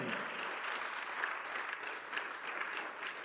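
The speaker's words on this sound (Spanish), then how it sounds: "Denle un aplauso al Señor en este momento." A church congregation claps steadily and evenly for a few seconds, a dense wash of applause filling the room without pause.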